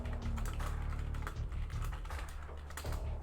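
Steady typing on a computer keyboard during a livestream of the text game AI Dungeon, with a continuous stream of close key clicks running the full length over a low background hum.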